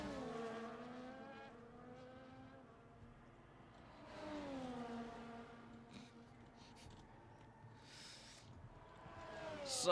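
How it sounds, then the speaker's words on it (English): Mercedes race cars in a racing video game scream past in rising and falling engine wails, several cars whining up through the gears in waves, with faint commentary underneath. "the two Mercedes will be coming for the last corner"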